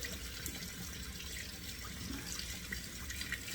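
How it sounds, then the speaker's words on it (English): Hot water runs steadily from a tap while shaving soap is lathered in a bowl, a continuous close splashing hiss with no talking. "So I'm letting that hot water run"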